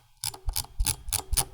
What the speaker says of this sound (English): At maximum resistance, you get a very audible and very tactile click.